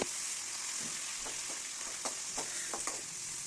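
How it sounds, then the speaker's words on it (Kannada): Green chillies sizzle and fry in hot oil for a tempering, a steady hiss with a few light stirring clicks over it, close and alone. "ಅದನ್ನು ಚೆನ್ನಾಗಿ ಹುರ್ಕೋಬೇಕು ಎಣ್ಣೆಯಲ್ಲಿ"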